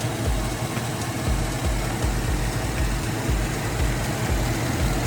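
Chevrolet Tahoe engine idling after a repair, a steady low rumble with a regular rhythmic pulse, close and even, running smoothly without any voices over it.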